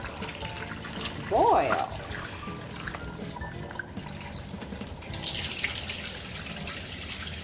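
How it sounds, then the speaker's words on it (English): Basmati rice being rinsed under a running kitchen tap into a sink, water flowing steadily and splashing close by, with a brief louder splash early on and a person speaking over it. "I'm just going to wash my rice real quick"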